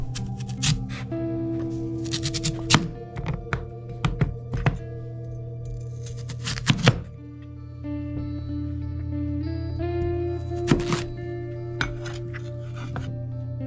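A knife cuts through a Korean radish on a board in a home kitchen, making scattered, close thunks and light clinks spaced irregularly over a steady background hum.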